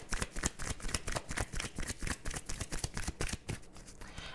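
Tarot cards being shuffled during a card reading, a dense run of rapid papery riffles and flicks that continues steadily and closely throughout, with no voices.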